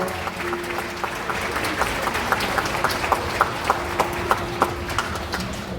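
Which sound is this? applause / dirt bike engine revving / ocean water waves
applause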